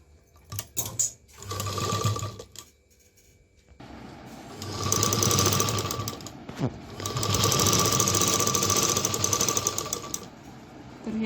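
Sewing machine stitching a pocket onto a handkerchief, running in two close bursts of rapid rhythmic whirring with a short pause and handling noises between them.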